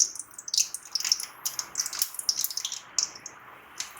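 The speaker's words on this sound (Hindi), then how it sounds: "अब हम इसमें हमारे समोसे डाल देंगे, मिनी समोसे डालेंगे" Mini samosas dropped into hot oil to fry, giving a bright, crackling bubble with quick spitting pops that rise and fall, close and fairly quiet.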